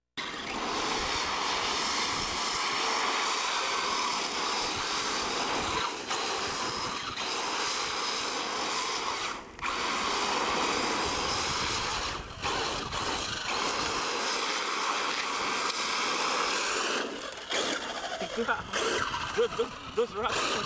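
A 1/5 scale RC monster truck with twin Mamba Monster 2200kv brushless motors runs over rocks outdoors, its motors whining loud and sustained with brief dips as the throttle eases, close to the listener, and people talk now and then.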